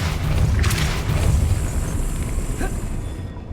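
A Depulso force spell blast in the Hogwarts Legacy video game, a loud booming burst with a whooshing rush that fades over a few seconds against ambient game sound.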